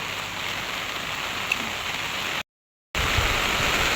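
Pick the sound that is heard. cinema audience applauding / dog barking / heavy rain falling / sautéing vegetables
heavy rain falling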